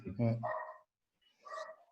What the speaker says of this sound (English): My hardy dogs are talking.